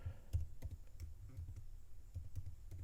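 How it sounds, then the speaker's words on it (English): Close, irregular keystrokes tap on a computer keyboard as someone types with one hand, clicking alone in a quiet room. "I'm typing with one hand right now."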